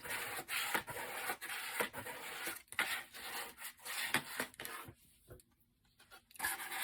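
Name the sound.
bone folder smoothing paper corners of junk journal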